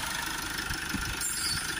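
A Mercedes Vito 2.1 CDi diesel engine, a London taxi, idling during particle filter cleaning, with a steady low rumble and a faint rhythmic knock, heard close with no talk.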